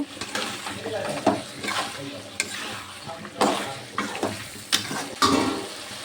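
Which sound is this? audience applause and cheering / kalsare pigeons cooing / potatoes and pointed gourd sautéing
potatoes and pointed gourd sautéing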